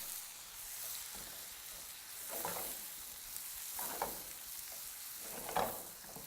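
Diced onions stirred through hot bacon grease in a pan over very high heat, a steady bright sizzle with a few louder scraping stir strokes, close and without voices.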